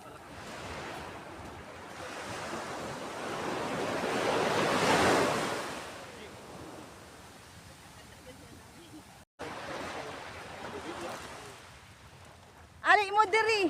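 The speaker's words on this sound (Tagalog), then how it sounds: "Nabasa na. Lakas ng alon." Strong sea waves crash and wash up on Khorfakkan beach with a broad, roaring surge that swells to a peak and then recedes, mixed with wind buffeting the microphone, and a voice is heard at the end.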